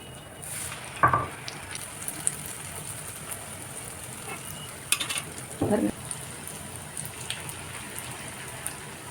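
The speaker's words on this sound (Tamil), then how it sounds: "இது அழகாக சவுண்டு வருது." Eggless rose cookies (achu murukku) frying in hot oil give a soft, steady sizzling hiss, with a couple of brief louder bubbling flares as batter meets the oil.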